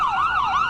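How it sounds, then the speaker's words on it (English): A wailing siren rises and falls in a steady, smooth sweep, loud and continuous with no voices. "And the occasional siren, too."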